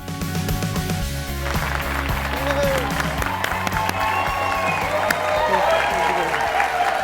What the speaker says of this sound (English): Thank you for that warm applause.